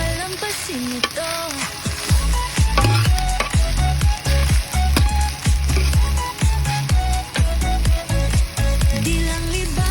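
Overload fried rice sizzles and is stirred in a hot pan, a loud continuous frying hiss with scraping strokes, heard beneath prominent background music with singing.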